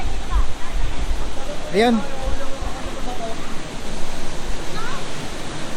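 Majayjay waterfall in Laguna, Philippines, roars as a steady broadband rush of falling water close by, while people talk and call out over it.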